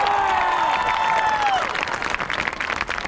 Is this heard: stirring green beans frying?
no